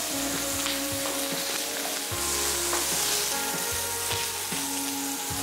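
Coriander seeds fry in a hot pan for Indian mint-coriander chutney, a constant close sizzle and crackle broken by repeated scraping stirs of a spoon against the metal; no voices.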